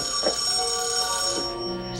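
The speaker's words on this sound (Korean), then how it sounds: "갑자기 생각지도 못한 데이빗의 전화." A telephone rings with a sustained electronic tone, fairly quiet, and a brief soft knock or clunk sounds near the start.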